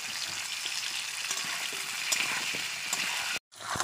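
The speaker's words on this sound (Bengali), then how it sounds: "এখানে আমার পেঁপে আলুটা ভাজা হয়ে গেছে" Papaya and potato pieces seasoned with turmeric and salt fry in a pan with a steady, close sizzle and faint stirring clicks, cutting out briefly near the end.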